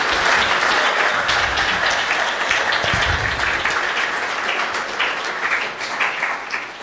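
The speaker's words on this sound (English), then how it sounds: "Let's give another round of applause." Sustained applause from an audience at the close of a church lecture, a dense, steady clapping wash that stays full throughout and eases slightly toward the end.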